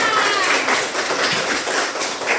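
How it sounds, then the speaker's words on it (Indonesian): A class of children claps together in a classroom, giving a dense, close burst of many small hands with a slightly uneven rhythm that lasts a couple of seconds. "Tepuk tangan semuanya."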